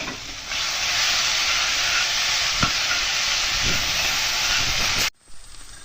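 Onion paste hits a hot pan for kabuli chana masala, bursting into a loud, steady sizzling hiss that holds for about five seconds before cutting off sharply, with faint scrapes of stirring underneath.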